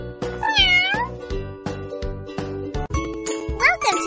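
Cartoon cats in a pet shelter care game meow in a few bright, rising calls over a steady, tinkling music loop with chimes.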